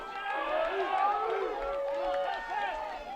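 Duke fans at a women's lacrosse championship game cheer and shout in a steady, lively crowd roar that swells slightly and stays loud throughout.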